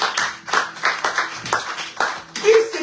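A church congregation claps in a steady rhythm of loud hand claps, about two per second, with voices mixed in.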